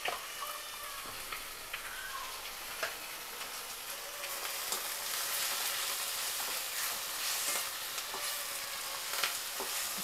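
About 200 grams of chicken frying in a pan after other ingredients have browned, a steady close sizzle with light scraping and clicking stir strokes throughout and no talking.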